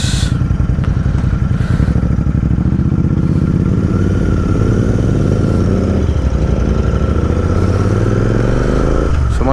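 A Royal Enfield Interceptor motorcycle rides along with its engine loud and close. The steady roar runs throughout, and its pitch rises and falls as the rider works the throttle.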